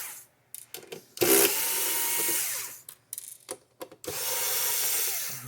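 A power driver unscrews Torx 20 screws from the back of an Atlas Copco ACTA 3000 torque tester, whirring loudly close by in two sustained runs with brief ratcheting and handling clicks between.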